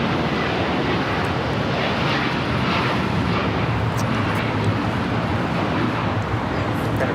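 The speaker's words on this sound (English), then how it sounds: "This is Japan Airlines Flight 69 taking off to Osaka on the 787-9 Dreamliner" Japan Airlines Boeing 787-9 Dreamliner taking off from LAX, a steady, broad engine roar that holds at full strength throughout, with no voices over it.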